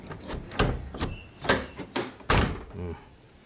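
Doors of a Toyota Kijang Commando SSX being shut: a series of solid thuds and knocks at uneven intervals, close by, with faint talking in the background.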